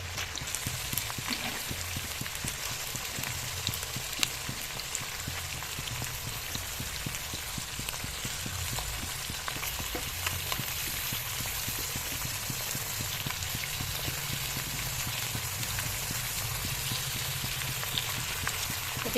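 Duck meat with spice paste, salt and turmeric sizzles in a pan for a duck curry, a loud, steady crackling and spitting that continues evenly throughout, close up and with no talking.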